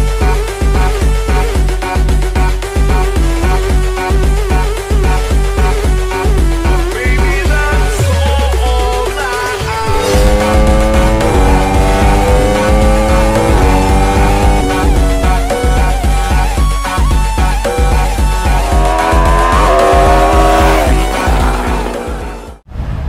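Lamborghini supercar at a car gathering, engine revving hard with rising and falling roars, a sharp rev burst midway and continuous loud engine noise throughout.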